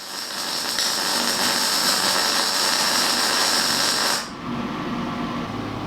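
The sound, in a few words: welding the top section of a steel rose arch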